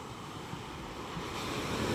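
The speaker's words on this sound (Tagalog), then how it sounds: "napakalaki ng alon ngayong umaga" Large sea waves wash onto the shore on a windy morning at a fish terminal in Tanza, Cavite, a steady close roar of surf with wind buffeting the microphone, swelling slightly toward the end.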